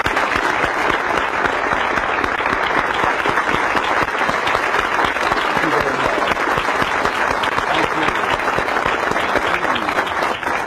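A large audience at a motivational seminar gives Zig Ziglar a loud, sustained round of applause, with dense, even clapping that fills the room for over ten seconds.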